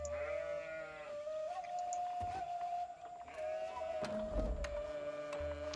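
Sheep bleating in Age of Empires: sustained, wavering bleats in overlapping calls, clear and close over faint game ambience.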